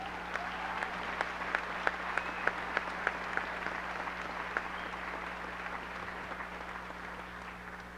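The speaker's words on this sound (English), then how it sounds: "Please join me in a round of applause for all of their achievements" Audience applause at a high school commencement ceremony, a steady wash of many hands clapping with a few sharper individual claps standing out, continuing for several seconds over a low hum.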